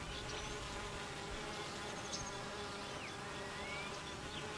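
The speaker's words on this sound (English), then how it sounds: "Thousands of drones from many bee colonies gather in one place." Dense swarm of honey bee drones from many colonies buzzing in flight at a mating gathering place, a steady continuous hum with individual bees passing close.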